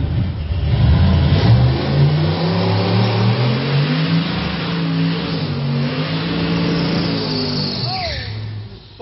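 A car doing a burnout inside a shop, its engine holding a loud, steady revving roar that rises and falls, ending with a brief high squeal as the revs drop.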